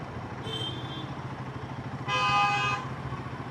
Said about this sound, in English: Why he is honking?